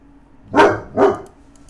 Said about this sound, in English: Excuse my dog barking.